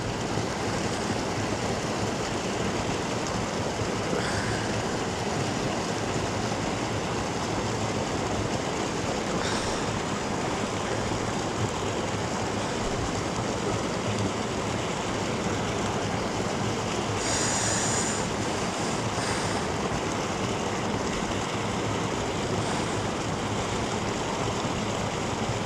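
A waterfall pours in a steady, dense rush throughout, loud and close with no voices over it, broken only by a couple of faint higher squeaks.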